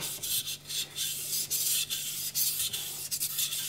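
A knife blade is rubbed back and forth on a Naniwa Gouken 1000 grit whetstone, producing close, gritty scraping strokes in a quick rhythmic series of about a dozen passes.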